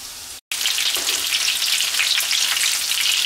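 Chicken nuggets frying in a pan make a loud, dense, crackling sizzle that cuts out for a moment near the start and then carries on steadily, with no one speaking.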